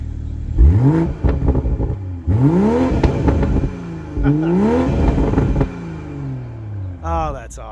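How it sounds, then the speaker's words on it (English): A 2020 BMW M340i engine revs up in three sharp, rising blips that fall back to idle, the exhaust snarling loudly close by, followed by a short spoken remark. "Hey Lauren, can you do another little rev time"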